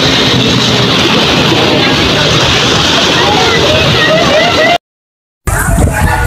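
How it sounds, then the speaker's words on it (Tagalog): Strong ocean waves crash and slosh continuously at close range, a loud, dense wash of water that stays steady before a brief cut, then resumes. "Lakas ng alon!"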